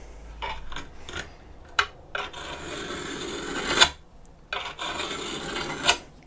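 A drill bit is dragged across reclaimed roof slate to scratch a cutting line, giving a series of close, dry rasping strokes with short pauses between them and no talking.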